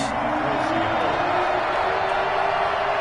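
Stadium crowd noise from an EA Sports NFL video game, Atlanta Falcons versus Seattle Seahawks, rises as a dense, steady roar of many voices, loud and even for the whole stretch.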